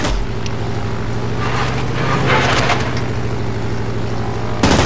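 Warplane engines in the World of Warplanes game drone loudly and steadily with a low harmonic hum, joined by a rushing airflow that swells midway and cuts off briefly near the end.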